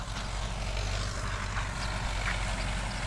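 A tractor mows grass for the first hay cut of the season, its engine making a loud, steady droning roar throughout.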